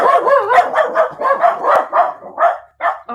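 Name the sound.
dogs barking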